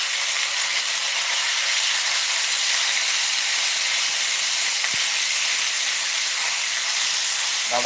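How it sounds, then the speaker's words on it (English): Chicken sizzling in a hot stir-fry pan, a loud, continuous close hiss and crackle of frying with no talk over it. "Now that's a sizzle. That's sizzle right there."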